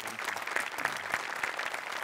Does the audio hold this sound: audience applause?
yes